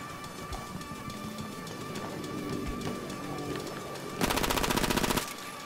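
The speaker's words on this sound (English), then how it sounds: "It's a full auto pistol." A full-auto pistol fires in Battlefield 1, a short rapid burst of close, loud shots near the end that stands out over the game's background noise.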